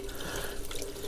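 Water runs steadily from a tap while feet are washed for wudu ablution, a soft, continuous splashing stream heard close but at low volume.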